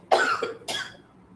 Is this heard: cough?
yes